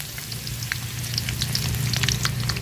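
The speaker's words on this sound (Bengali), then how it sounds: "তো এই তেলে আমি পেঁয়াজ কুচি দিয়ে দিলাম" Chopped onion dropped into hot oil while cooking beef haleem sizzles loudly and steadily up close, a dense crackling hiss with small pops throughout and no voices.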